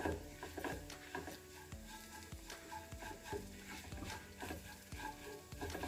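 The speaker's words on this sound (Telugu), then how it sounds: "ఇదంతా కూడా ఒకసారి కలిపేసుకోవాలి" Mustard greens stirred and frying in a pan over a low flame: rhythmic close-up scraping and rustling of the spatula over a soft, continuous sizzle.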